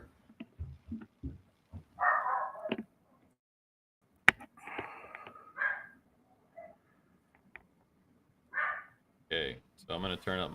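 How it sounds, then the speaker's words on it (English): Dog barking in the background of a room while someone talks, with several sharp yips and barks scattered among the speech, some faint and some louder. "so you might hear the dog barking in the background"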